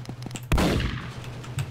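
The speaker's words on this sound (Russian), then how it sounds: "Из пушки, Карл" A single booming cannon blast in the Roblox game Zeppelin Wars hits hard and rings out, with faint mechanical ticking and a low hum around it.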